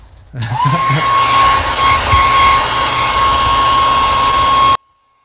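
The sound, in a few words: hair dryer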